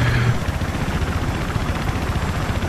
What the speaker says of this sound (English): Drive the helicopter.